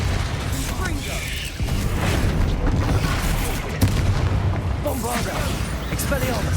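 A Confringo fire spell from Hogwarts Legacy bursts amid a dense, continuous battle soundscape of magical blasts and booms, with an incantation voiced over the combat.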